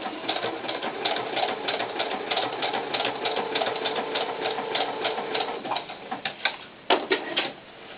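A sewing machine stitches knit leotard fabric in a steady, close, fast mechanical whir, then slows into a few separate bursts and stops near the end.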